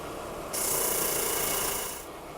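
A circular disc sander bites into a large wooden workpiece, a steady rasping hiss that jumps louder as the wood meets the disc, holds for about a second and a half, then eases off.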